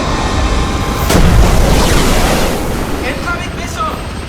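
A submarine weapon fires in a sci-fi B-movie, giving a loud surging whoosh and rumble like rushing water, swelling then trailing off into a steady wash.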